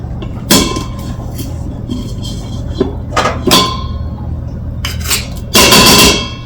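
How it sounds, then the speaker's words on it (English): A chef's knife minces on a cutting board in a home kitchen, with a series of sharp, irregular chopping knocks, some in quick clusters, over a steady low hum. "So we're just going to mince some of this."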